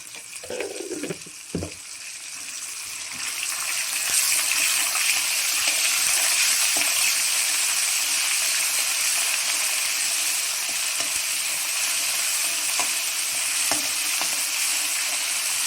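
Ginger-garlic paste frying in a pan for a palak paneer curry makes a loud, continuous hissing sizzle. A few knocks and stirring clatters come near the start, then the frying holds steady and close with no voices.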